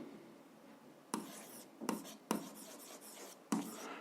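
Pen or chalk writing by hand during a seventh-grade algebra lesson, heard as a few separate bursts of scratchy strokes against a quiet room, close and moderately loud, with no talk over them.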